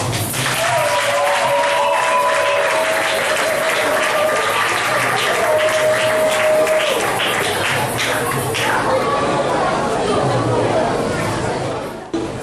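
Sustained applause from a church congregation during a Christmas Eve service, dense and loud throughout, with voices and tonal chatter mixed in before it tapers off at the end.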